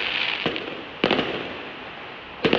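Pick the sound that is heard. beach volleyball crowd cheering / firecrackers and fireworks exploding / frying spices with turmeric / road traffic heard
firecrackers and fireworks exploding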